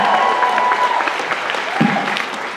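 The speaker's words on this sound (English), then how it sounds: "Round of applause for Stephen Norton, please." Audience applause breaks out for a guest at a fan convention panel, a steady wash of clapping from a large crowd that holds at an even level, with a few louder hand claps and brief voices poking through near the end.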